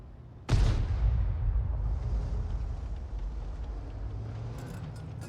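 A single heavy tank cannon shot in World of Tanks, with a sharp, loud blast followed by a long rumbling decay and engine drone, and no talking.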